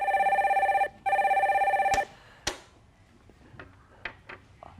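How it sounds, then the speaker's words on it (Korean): Telephone ringing on a live Korean financial call-in broadcast as a call is connected: two long electronic rings in a row, loud and close, followed by a few faint clicks and a quiet room with no talk. "전화 바로 연결해 주세요."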